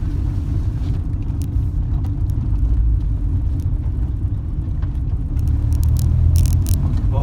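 A Honda engine idles steadily after its first start on an AEM EMS, a loud, close, continuous low rumble with slight rattles and no talk.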